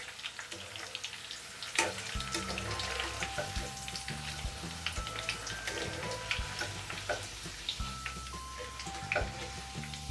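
Potato slices for chips fry in hot oil with a steady crackling sizzle. Soft stirring clinks and scrapes sound over it at close range.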